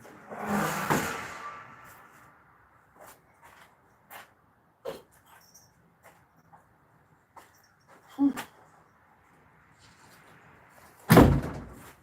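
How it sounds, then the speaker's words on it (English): A shed door closes with scattered thuds and knocks across a quiet outdoor space, a louder rustling burst early and a hard slam near the end, isolated sharp impacts with near silence between them. "I'm going to close this shed door."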